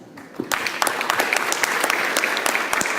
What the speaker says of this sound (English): Let us give the final round of applause to our distinguished guests.